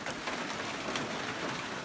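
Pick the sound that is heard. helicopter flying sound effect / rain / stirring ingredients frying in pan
rain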